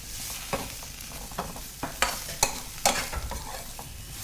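Spices with garam masala fry in a pan for a drumstick fry, a soft continuous sizzle broken by scraping, clinking strokes of a spoon stirring against the metal at an irregular pace.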